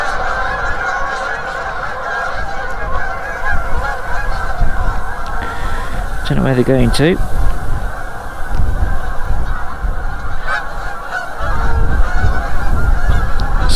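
Geese honk in a brief burst of overlapping calls partway through, set against steady outdoor ambience on the upper River Tamar during a lure-fishing session, with someone speaking quietly and faint honks recurring later.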